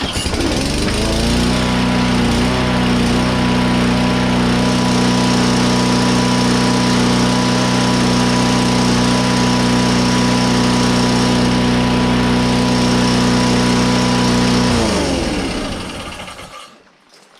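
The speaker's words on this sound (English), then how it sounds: "that's that little lawnmower now all up and running." A small lawn mower engine, revived after being found at the curb, runs steadily at a loud, constant drone for about fifteen seconds, then cuts off and winds down to quiet.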